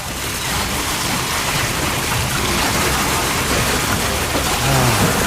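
Broadband rush of rain and running water played as a radio sound effect, loud and steady throughout with a low swell near the end like a wave.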